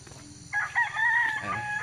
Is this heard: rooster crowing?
yes